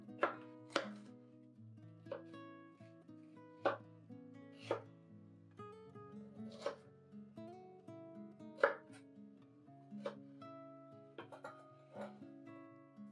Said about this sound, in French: découpez des carrés. On fera la même chose avec le demi-poivron vert.